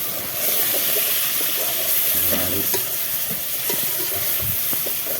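Tomatoes fry in a hot pan for a corn curry, a loud, steady close-up sizzle and hiss throughout with faint stirring scrapes underneath.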